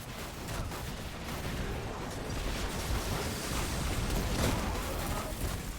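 A solar rocket launcher in Destiny 2 fires and detonates within a sustained roar of battle, a thick, continuous rumble of blasts and crackling debris that swells slightly in the middle without clear separate bangs.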